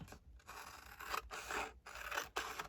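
Scissors cut through the paper of a picture book in four long, rasping strokes separated by short pauses, close and clear with no talk.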